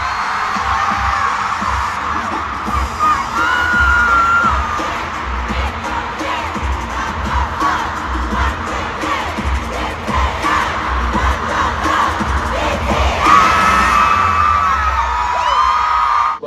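A huge arena crowd of fans at a Las Vegas concert shouts a fan chant. The roar is loud and dense, sustained throughout, with rhythmic swells of massed voices.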